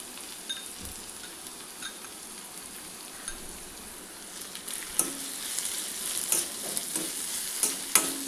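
A spoon stirs green chilli and pepper paste into a pan of softened bottle gourd curry, giving a quiet, steady scraping and soft simmering sizzle with a few louder clinks toward the end, no voices.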